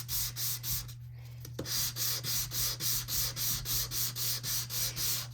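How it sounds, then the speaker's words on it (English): Rhythmic back-and-forth scraping as an old Stampin' Up! sander rubs across two-tone cardstock with a white core, about a dozen even strokes after a brief pause, close and steady with a low hum beneath. "So then by sanding off some of that, it brings that white through."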